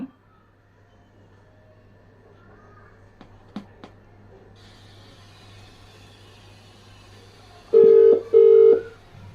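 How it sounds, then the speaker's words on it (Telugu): A telephone number is dialled on a phone: a few faint clicks and soft key sounds over a low hum, then two loud, steady electronic tone bursts near the end. "శ్రీరెడ్డి ఫోన్ చేద్దాం, ఇప్పుడు ఎత్తదాన్ని చూద్దాం."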